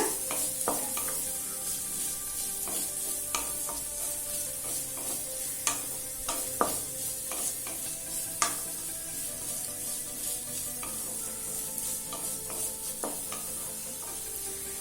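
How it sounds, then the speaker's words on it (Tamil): Vegetables for chutney sautéing in a pan, a steady close sizzle punctuated by repeated sharp clinks and scrapes of a spoon stirring against the pan, with no talking. "இப்போ எல்லா காயும் நல்லா வதக்கியாச்சுங்க."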